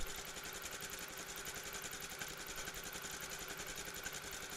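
A sewing machine runs steadily while stitching a quilt, giving a fast, even mechanical whir with a regular rhythmic patter, fairly faint and uninterrupted throughout.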